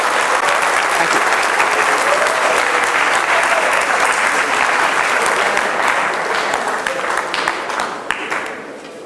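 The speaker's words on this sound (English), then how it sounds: "he deserves another round of applause" A lecture audience gives sustained applause. Dense, steady clapping from many hands continues for several seconds and then thins out toward the end.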